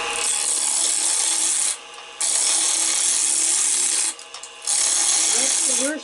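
Wood lathe spinning while a gouge cuts a banksia pod, giving a loud, close, continuous rasping scrape broken by two short pauses.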